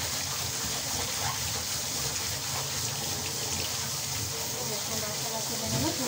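Tap water gushes continuously over a dish being washed by hand, a steady bright rush of running water close by with a few softer splashes and some faint background voice.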